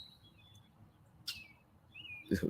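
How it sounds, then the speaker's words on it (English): A red-winged blackbird calling outdoors, with a few thin high chirps and a short trill, faint against quiet background noise and a brief low thump near the end. "That's the red-winged blackbird."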